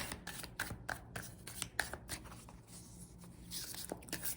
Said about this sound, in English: this is really hard to shuffle because the cards are larger than most cards.